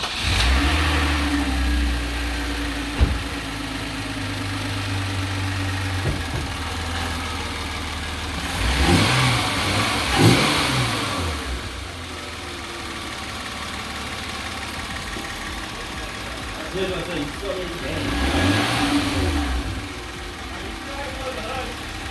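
A 2016 Hyundai Genesis Coupe with an AEM cold air intake starts up and idles, then revs repeatedly in rising and falling bursts, loud and close, while people talk over the engine.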